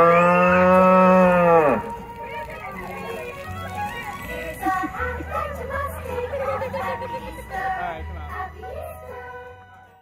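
A novelty cow limo sounds its mooing horn in one loud, drawn-out bovine moo, followed by a lively crowd laughing and chattering nearby.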